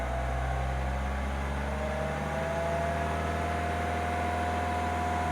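A 2003 Nissan X-Trail T30 with the 2.2 dCi diesel engine, carrying fault code P0120 and refusing to rev up, hums steadily at a low idle-like whir with the accelerator floored, the pitch barely rising, no voices.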